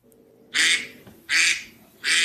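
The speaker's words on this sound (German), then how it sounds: "Da ist die Ente, hörst du sie?" A duck quacks three times in loud, evenly spaced bursts close by, each about half a second long, in an otherwise quiet room.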